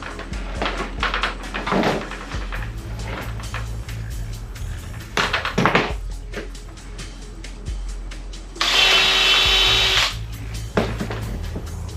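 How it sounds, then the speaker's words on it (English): A power drill whines in a sustained burst through the metal of an RV roof vent near the end, preceded by clanks and knocks of handling tools and metal nearby. "Well, I guess we can drill it from the outside."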